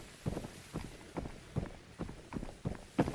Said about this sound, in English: Heard the footsteps right over here.